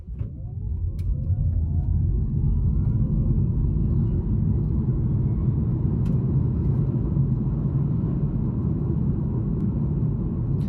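A Kia Niro EV electric crossover accelerates from a standstill to 60 mph on a gently rolling road, with steady loud road and tire rumble and a rising whine building throughout, no talking.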